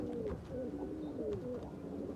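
Red-check pigeons from a Punjabi fancier's loft coo in repeated low, rolling phrases close by, steady against a quiet background hum.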